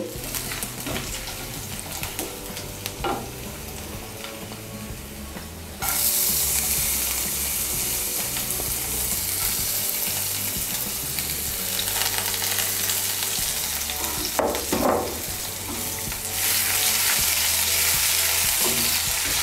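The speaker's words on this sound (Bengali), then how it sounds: "মুগ ডালটাকে হালকা একটু ভেজে নেব।" Washed mung dal, with ginger, gets lightly fried and stirred in a pan. A quiet scraping stir gives way to a loud, steady sizzle that briefly eases and then swells again, punctuated by utensil clinks.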